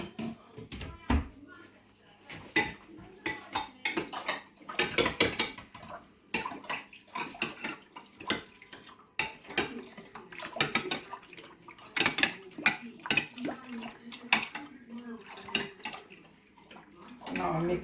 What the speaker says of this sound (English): Now I'm mixing it so it will be getting a bit bubbly.